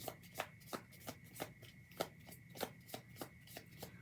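Tarot cards being shuffled in quick riffling bursts, roughly a dozen sharp flutters in a steady rhythm, close and fairly quiet.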